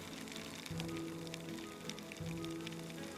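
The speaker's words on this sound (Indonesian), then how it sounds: "sangat rawan longsor jika hujan seperti yang sekarang kita lewati" Steady rain patters on a landslide-prone mountain road in West Sumatra, a continuous wash of drops heard alongside a low humming engine tone.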